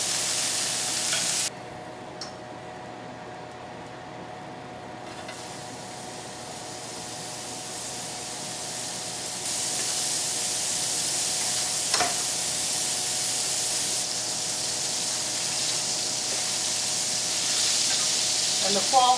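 Foie gras sears in a hot pan, giving a steady, loud sizzling hiss that holds throughout with small swells and crackles.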